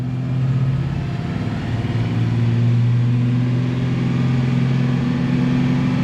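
An El Camino's engine runs at a steady, raised idle with a strong low hum and a rough, even throb, close and loud, holding nearly level with only slight swells and no voices.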